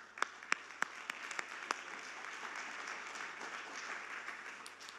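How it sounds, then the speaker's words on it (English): Steady audience applause at a TechCrunch Italy 2013 conference talk, dense and continuous for several seconds, with a few sharper individual claps standing out near the start. "let's give them a round of applause"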